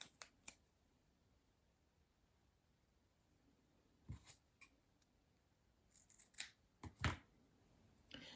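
Scissors snip fabric for a dolls house lamp shade, giving a few sharp, close cuts early on and then a quicker cluster of crisp snips near the end, with quiet room tone between and no talking.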